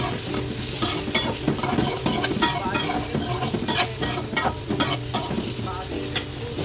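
Chopped onion and cinnamon sticks fry in chicken fat, loud close sizzling broken by frequent rhythmic scrapes and clinks of a utensil stirring against the pot.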